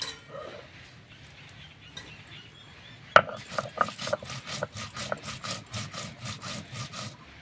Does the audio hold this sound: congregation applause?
no